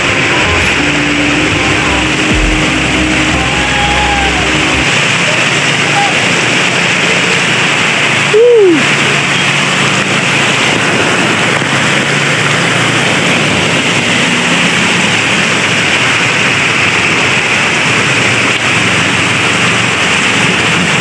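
Sudden heavy rain on an overcast afternoon during a motorbike trip, heard as a loud, steady broadband roar that fills the whole stretch without letup.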